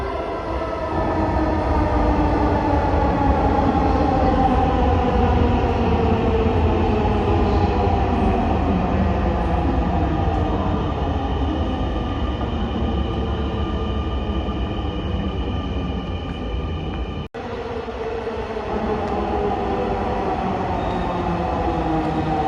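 A metro train arriving at a station rumbles steadily and loudly nearby, its rolling noise sustained with a brief dip near the end, then continuing.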